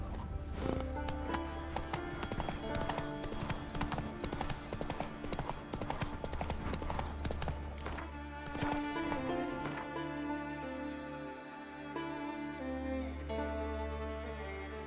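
Horse galloping in the video game The Witcher 3, a rapid continuous drumming of hooves close up with a brief neigh, game music and ambience running underneath.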